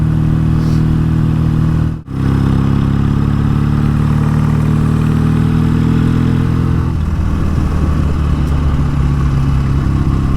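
A BSA A10 Super Rocket motorcycle engine chugs along at a steady loud drone while riding, with a brief dropout before the tone shifts down later.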